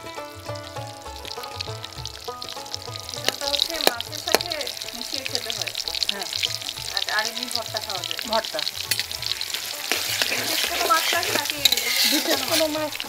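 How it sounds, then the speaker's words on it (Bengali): Chopped onions frying in oil in a kadai for a Northern Bangladesh sidol curry, with a persistent close sizzle, stirring scrapes and some splashes over a low, rhythmic background. "রান্নার শুরু কড়াইয়ের তেলে পেঁয়াজ কুচি ভেজে"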